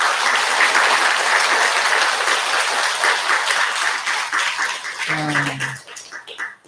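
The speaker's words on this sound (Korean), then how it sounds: "우리 진만 스님께 큰 박수 한번." Worshippers at a Buddha's Birthday service at a temple give a long, loud round of applause for a monk, the clapping thinning out near the end as a brief voice cuts in.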